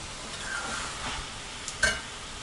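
Bone-in chicken pieces frying in a pan for Pallipalayam chicken, a soft steady sizzle with occasional stirring scrapes and one louder clatter near the end, close and fairly quiet.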